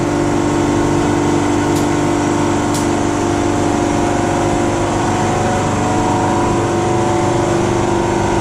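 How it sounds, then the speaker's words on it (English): An air compressor in an auto body shop, working on a turbo Camaro in primer, runs with a loud, steady motor drone and hum. Two faint clicks sound near the start, and no one speaks. "Just gonna let the air compressor catch up here"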